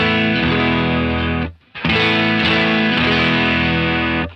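Electric guitar through a Golden Boy drive pedal at a clean, low-gain setting, two strummed chords ringing out with light texture and only slight breakup, the first decaying briefly before the second rings loud and sustained.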